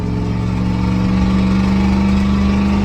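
An old Ford 6.9 IDI diesel truck engine, running poorly, roars loud and close under throttle with a constant low drone and strong humming tone, and no voices.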